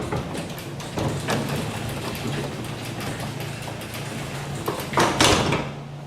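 A residential garage door rolls steadily downward for about six seconds, a continuous mechanical rumble with a low hum and a louder clatter near the end as it settles, with no talking.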